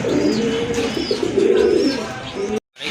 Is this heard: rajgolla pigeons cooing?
yes